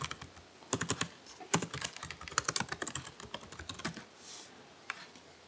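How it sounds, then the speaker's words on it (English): An account number is entered on a computer keyboard in quick, irregular bursts of crisp keystrokes, close and clear, followed by a brief pause and a few final taps. "begin typing the account number"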